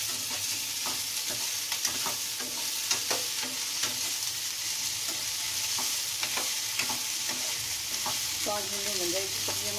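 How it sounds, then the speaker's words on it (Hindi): Green chilies are stir-fried in hot oil for a dhaba-style okra curry, with a bright, constant sizzle broken by repeated scraping knocks of a spoon against the pan. It is close, with no talk. "ये हमारी हरी मिर्च है, इसको भूनते चलाते हैं अच्छे से।"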